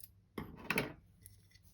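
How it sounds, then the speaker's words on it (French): Scissors trimming excess jute burlap, a single crisp snip-and-slide cut near the middle with small metallic clicks after, close and clear in a quiet room. "nous prenons notre ciseau, nous allons couper le surplus"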